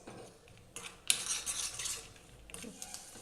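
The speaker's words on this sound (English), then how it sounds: "I am just going to be roasting the dry fruits in the ghee" Almonds and other dry fruits are stirred in ghee as they roast in a pan, with a spoon lightly scraping and clinking against the metal in a few soft, irregular strokes. The sound is quiet and close.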